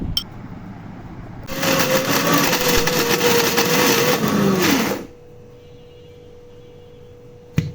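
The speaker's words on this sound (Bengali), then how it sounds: "একটু ঠান্ডা হলে আমি ব্লেন্ডারে জাস্ট আধা মিনিট ব্লেন্ড করে নিলাম।" An electric blender grinds cooked dried fish (shutki) for a mash, switching on with a loud, steady whirring roar for about three and a half seconds before cutting off to quiet.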